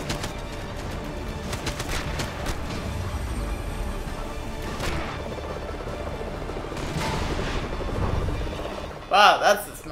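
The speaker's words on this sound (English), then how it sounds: "Shoot the helicopter." A helicopter in the Lego Marvel Avengers video game drones under game effects, with bursts of gunfire, rattling impacts and a short electronic flourish near the end.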